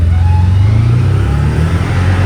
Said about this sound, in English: you can hear how much quicker it's revving out.